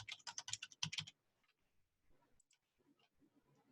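Rapid typing on a computer keyboard, a quick burst of close, crisp keystrokes lasting about a second, then near silence with faint light clicks and small taps.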